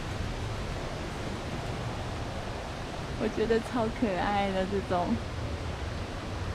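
A large waterfall at Manyueyuan Forest Recreation Area is heard from a viewing pavilion. It gives a steady, even roar from start to finish, and a person speaks briefly over it midway.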